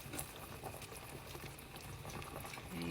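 A pot of soup made with lean ground beef, celery and other vegetables boils steadily, with dense, continuous close bubbling and popping and no talking.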